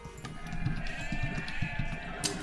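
Sheep in the video game Age of Empires 2 bleating in a quick run of short, wavering calls, clear and fairly close, over faint game background sounds.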